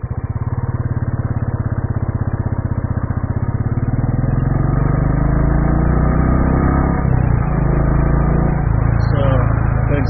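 Royal Enfield Classic 350 single-cylinder motorcycle pulling in second gear, its engine thumping steadily and building into a continuous droning roar, loud and close, with a person talking over it.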